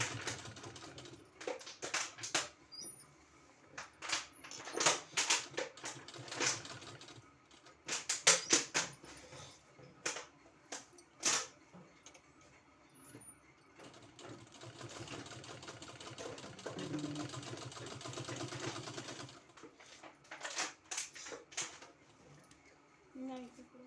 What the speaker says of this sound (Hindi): इसी तरह से पूरे में सिलाई लगा देना है।